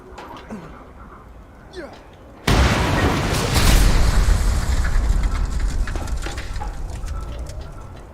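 Explosions tear through a camp in the Mad Max video game: a sudden loud blast hits after a quieter stretch, then a sustained roaring, crackling rumble of burning debris and further bursts.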